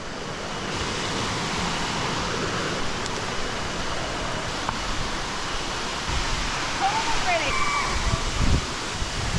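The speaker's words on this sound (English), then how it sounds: "There is a mini waterfall on the left side." A small waterfall pours steadily nearby, a continuous broad rushing wash that holds even throughout, with people talking over it and a brief chirping sound near the end.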